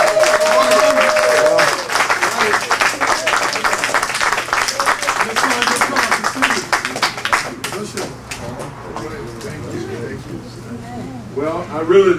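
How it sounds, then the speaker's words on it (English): Warm applause from an audience greeting Congressman Danny Davis, dense clapping at first that thins and fades out, with a steady low hum underneath and brief voices near the end. "I want you to give him a warm round of applause"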